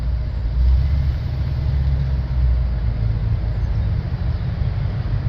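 Engine of a G-body car running, a steady low rumbling idle heard continuously and close by, with no talking.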